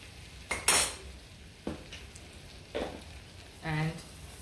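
Two tablespoons of all-purpose flour stirred into melted butter in a pan for a garlic butter sauce: a few sparse, brief scrapes and clinks of a utensil against the pan over a quiet room, with a short vocal murmur near the end.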